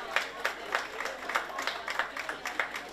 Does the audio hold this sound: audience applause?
yes